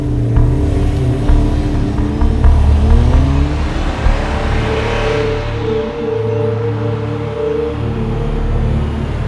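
Close and loud, a white Innova passes with a rising engine whir that then settles into a steady, even drone. Nobody talks.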